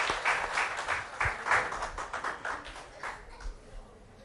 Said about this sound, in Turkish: sizin yüksek alkışlarınız, yüksek müsaadenizle ve alkışlarınızla Neşe Hanım'ı buraya davet etmek istiyorum.